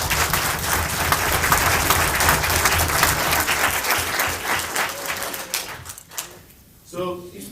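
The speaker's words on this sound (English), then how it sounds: "Let's give a round of applause." Sustained applause fills a board meeting room for about six seconds, loud and dense, then fades out with a few scattered claps and murmurs as voices return.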